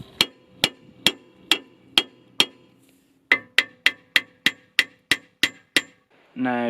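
Close metallic hammer blows strike a Gen.1 Mini ball joint to free it, coming in two runs of sharp, even raps separated by a pause, with a short burst of other noise at the end.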